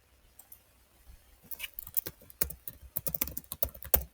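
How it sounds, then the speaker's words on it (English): Quick clicking keystrokes on a computer keyboard, starting sparse and soft then building into a steady, close run of typing with no talk. "I'm going to type it here,"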